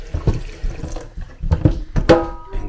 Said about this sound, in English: filling up the kettle with water so that I can boil that